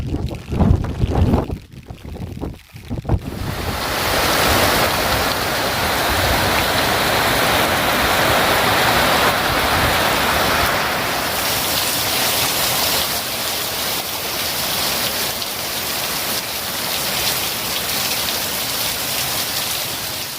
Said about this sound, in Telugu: అటు నుంచి పోతుంది వర్షం బాగా కదా